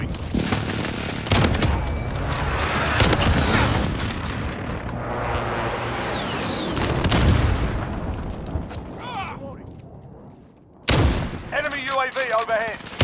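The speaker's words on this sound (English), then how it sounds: "Be advised, friendly precision airstrike inbound." Precision airstrike blasts rip through a Call of Duty: Modern Warfare battlefield, a dense run of loud booms and gunfire with radio voices over it, a brief drop near the end, then sharp explosions burst back in.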